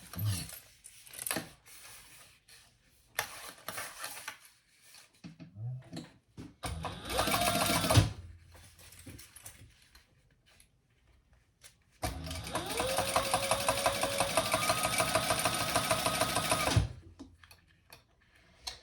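A sewing machine top-stitches a bag in short bursts: a brief run, then a longer steady whirring stretch of rapid needle clatter, close up, separated by quiet handling pauses.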